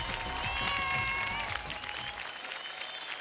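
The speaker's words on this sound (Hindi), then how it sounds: "जोरदार तालियां फॉर खेसारी लाल यादव" Award-show crowd applauds at a Bhojpuri film awards ceremony, with steady, dense clapping and some cheering from a large hall that thins out toward the end.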